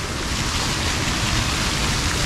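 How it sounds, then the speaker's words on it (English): Water splashing onto people near a Bangkok shopping mall, a loud, continuous wash of spray and rushing water close to the microphone with wind buffeting, no talking. "Oh, we're getting splashed."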